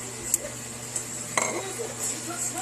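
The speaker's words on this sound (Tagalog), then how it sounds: "Tsaka haluin natin." Beef steak with soy sauce being stirred in a pan, with sporadic scrapes and clinks of the utensil against the metal over a low steady sizzle.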